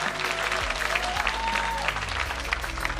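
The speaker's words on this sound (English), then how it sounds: "Can we have a big, big, big round of applause?" An audience at an award presentation applauds loudly and continuously, a dense, steady wash of clapping from a large crowd with no pauses.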